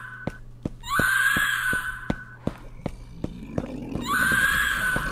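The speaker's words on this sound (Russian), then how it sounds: "Вон она, да, тварь орёт." A creature in the horror game Delivery from the Pain lets out two long, shrill wailing screams, separated by a stretch of sharp clicking steps and low rumble, fairly close and loud over dark ambience.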